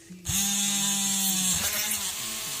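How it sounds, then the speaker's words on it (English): An electric drill starts up and bores steadily into a hard surface under firm pressure, a loud close whine with a pitch dip as the bit bites, running continuously alone for over two seconds. "you need to push quite hard to avoid the drill to dance about over the surface"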